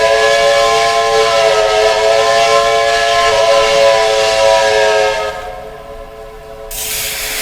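Loud, steady hiss of train air brakes in a railroad simulator game with oil-fired locomotives, running continuously before dropping off near the end and briefly returning, with tonal whistle-like lines riding over it and no talking.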